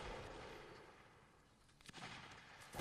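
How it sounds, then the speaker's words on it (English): Musket volleys crack in a Napoleonic Wars line battle, a faint distant rumble of shots followed by a couple of sharper nearer reports toward the end. "bullets bouncing around these guys"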